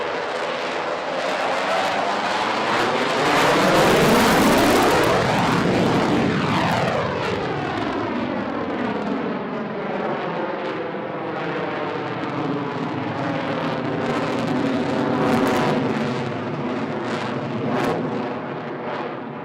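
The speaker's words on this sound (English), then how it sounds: "be kicking those burners back in and then turning away to his left for a high-speed, slow-speed loop" Jet aircraft roaring past at an air show with afterburners lit, a loud, continuous, sweeping roar that swells and shifts in pitch as it passes, filling the whole stretch without any talk.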